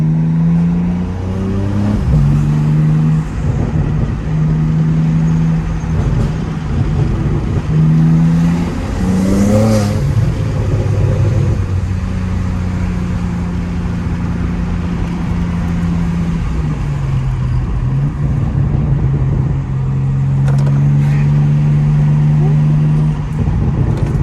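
A BMW M4 G82 with a loud aftermarket exhaust rumbles steadily at close range, its deep drone shifting in pitch as the revs rise and fall, with one sharper rev in the middle.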